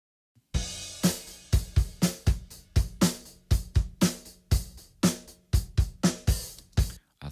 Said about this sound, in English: All the drums together, again, sounds like this.